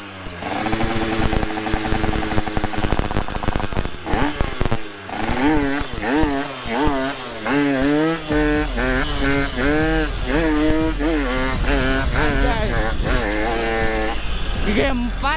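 A Yamaha RX King two-stroke motorcycle revs repeatedly on a test ride, its engine rising and falling in sharp, buzzy pitch sweeps, loud and close, with a person speaking over part of it.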